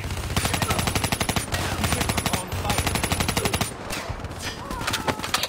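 Sustained machine gun cover fire in Call of Duty: Black Ops 3, loud rapid bursts hammering close with brief pauses between long strings of shots.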